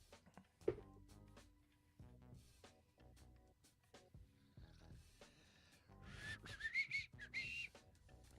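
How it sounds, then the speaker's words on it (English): A man whistles a short tune in bursts of clear notes, fairly quiet and close, with a rougher, breathy stretch near the end. "All he does is whistle now."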